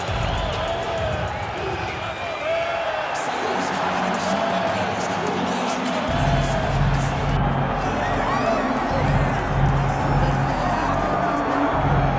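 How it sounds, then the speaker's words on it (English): Dense arena crowd noise at a UFC 5 video game fight between Jose Aldo and Aljamain Sterling, a steady roar of a capacity audience with cheering swelling midway, running continuously under commentator talk. "Aljamain Sterling, ready to make a statement in front of this capacity crowd here tonight."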